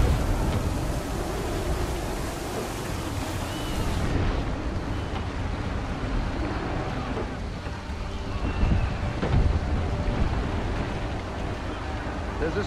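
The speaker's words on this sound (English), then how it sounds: "That wind will push us hard up those rocks!" Wind and waves at sea in Assassin's Creed III, a sailing ship amid a continuous dense rushing roar with surging gusts and wave wash, steady and loud across the whole stretch.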